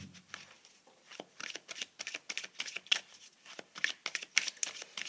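Tarot cards being shuffled by hand, a dense run of quick papery riffles and slaps close to the listener, with no voices.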